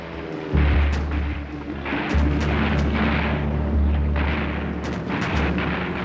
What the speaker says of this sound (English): John and his crew are battered by heavy anti-aircraft fire.